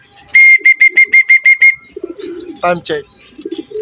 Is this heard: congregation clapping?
no